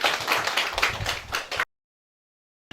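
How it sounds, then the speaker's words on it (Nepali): At a school parents' day, an audience claps to welcome the founding director, a brisk burst of many hands close by for about a second and a half before cutting to silence. "कृपया उहाँलाई जोरदार तालीले स्वागत गरौँ।"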